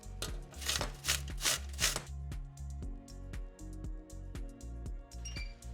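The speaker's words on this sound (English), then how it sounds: "whilst that's simmering away, we're just going to grate an apple" An apple is grated by hand in a kitchen beside a simmering pan, giving a quick series of rasping strokes over the first two seconds, then quieter scrapes under steady background music.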